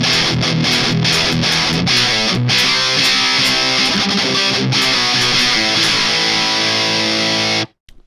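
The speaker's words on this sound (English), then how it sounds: "this has got to be one of the best sounding fuzzes when it comes to a fuzz distortion" Electric guitar played through a JHS Lizard Queen octave fuzz pedal, a thick, saturated fuzz distortion with chugging strummed chords and sustained notes, loud and alone, before cutting off abruptly at the end.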